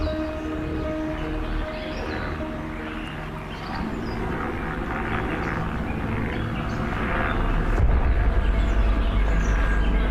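A park rescue helicopter's rotor rumble drifts in from a distance and swells steadily louder toward the end, a low continuous thrum without any talking.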